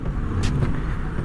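Traffic on a congested road, a steady low rumble of cars and engines with a couple of brief hissing bursts like air brakes, close and continuous.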